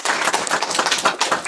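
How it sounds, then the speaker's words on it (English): A live audience at a comic convention panel applauds steadily for a games studio guest, with dense, continuous clapping that holds at an even level throughout and no talking over it. "A bit of clap, yeah, there you go."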